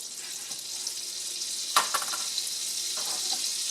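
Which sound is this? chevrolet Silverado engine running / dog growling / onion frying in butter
onion frying in butter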